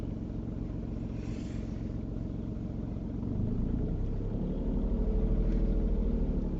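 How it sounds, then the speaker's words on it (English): A car coming up along a road during a UK driving lesson, heard as a steady rumbling engine and tyre noise that grows louder toward the end. "there's a car coming up"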